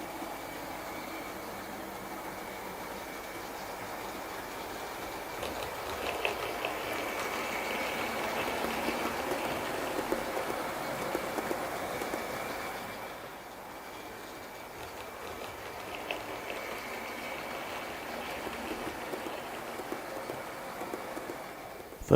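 Model trains with plastic or metal wheels running continuously on track, a soft steady rolling rumble and faint clicking that swells and eases over about twenty seconds, heard from close by with no talk.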